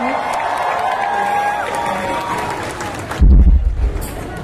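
A concert crowd claps and cheers for the drummer on stage, a broad wash of applause running under a voice, then a sudden loud low thump near the end.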